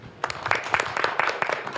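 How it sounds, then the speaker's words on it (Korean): Audience applause closing a policy roundtable on the digital economy: a short burst of scattered clapping from a modest crowd, moderately loud, building over under two seconds with no talk over it. "마지막으로 큰 박수 부탁드리겠습니다"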